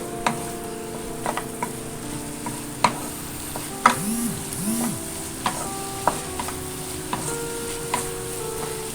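Vegetables for masala pasta sizzling in a pan, a steady fry hiss broken by regular clicks and taps of stirring against the pan, no voices.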